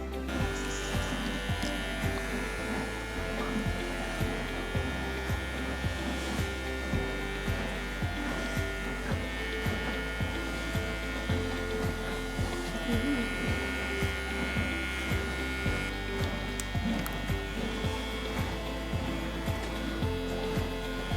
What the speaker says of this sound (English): Using the Nova trimmers, I'm going to use them on the shortest setting, turning the clipper over and slowly and carefully straightening up my lines.